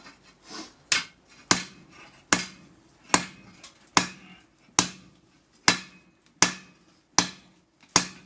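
Hammer blows folding a Damascus steel billet at a forge, about ten sharp ringing strikes at a steady, roughly one-per-second rhythm, loud and close with no talk.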